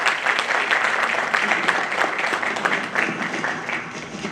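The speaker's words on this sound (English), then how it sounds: "A huge round of applause for Mr." Applause for guest of honor Captain Raghu Raman at a lawyers' storytelling session, a dense, continuous crowd clapping at steady volume without a break.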